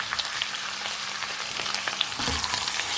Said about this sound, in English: Add in fresh peas, about a cup of it, and a medium-sized tomato